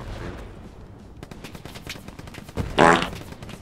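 A burst of gunfire fired from the hip in the World War II shooter game Hell Let Loose, a loud, dense crack near the end after a stretch of quieter rumbling game ambience.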